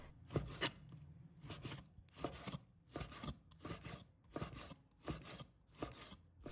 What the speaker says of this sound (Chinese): 接着再准备一块瘦肉，把它切成片